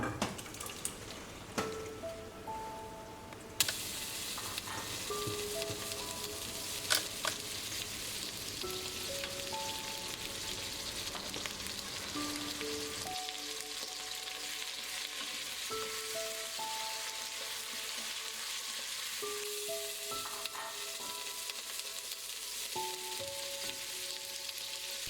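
Spanish omelette mixture of beaten egg and potato frying in a hot pan, a steady close sizzle throughout with occasional clinks and light scraping, no talking.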